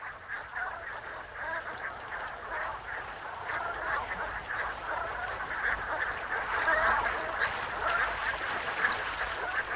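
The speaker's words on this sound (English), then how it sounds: "thousands of waterfowl, such as these brant geese, stop over at sheltered coastal areas of southern Alaska" A large flock of brant geese honks and gabbles continuously on a sheltered coastal stopover in southern Alaska, a dense overlapping chorus of many birds that grows slightly louder, with no voices.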